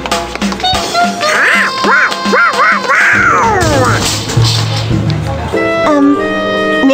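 Donald Duck's raspy, warbling cartoon quacks in the Mickey Mouse Kindergarten computer game, several loud bursts in quick succession over music and game sound effects.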